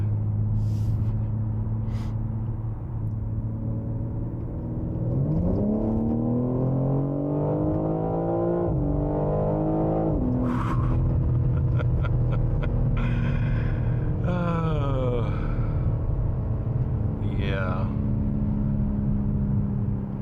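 A 2025 BMW M4 Competition accelerates hard from low speed, its engine note climbing loudly and closely through several gear changes with brief dips between pulls, with no talking.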